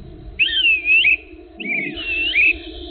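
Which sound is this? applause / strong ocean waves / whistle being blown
whistle being blown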